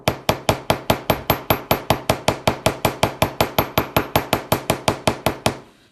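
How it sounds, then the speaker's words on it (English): A ball peen hammer flattening jewelry ear wire on a steel bench block, striking in a fast, even series of about thirty sharp metallic taps at close range, with no talk over it. "And I'm hammering this top"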